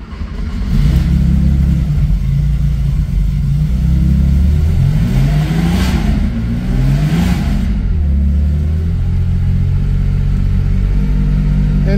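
A car engine idling just after a cold start, then revving up and down in several swells before settling back to a steady rumble, loud and close with no talking.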